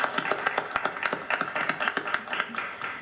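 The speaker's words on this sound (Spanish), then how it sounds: "Un aplauso para él, por favor." Studio audience clapping for a guest on a Spanish-language TV talk show, a thin, fairly close patter of handclaps in a loose rhythm from a smallish group, fading slightly toward the end.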